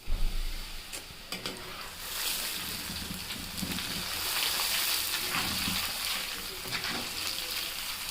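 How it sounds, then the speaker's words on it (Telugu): Flattened rice (poha) tipped into hot oil in a pan, giving a steady bright sizzle with crackling and stirring that holds through the whole stretch, fairly close and with no one talking. "ఇప్పుడు ఆయిల్ వేడెక్కిందండి. ఇందులో మనం అటుకులు వేసుకోవాలి"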